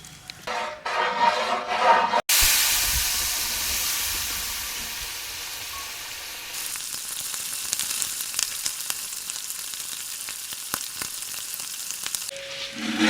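Eggs fry in hot oil with turmeric, chili, cumin and salt, a loud continuous sizzle and hiss that flares sharply after a brief pause, with scattered stirring scrapes and no talking.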